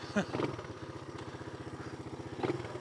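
Engine of a 1983 Honda three-wheeler pulling in first gear at very slow speed: a close, steady, rapid putter of firing pulses throughout, with a couple of brief voice sounds near the start and end.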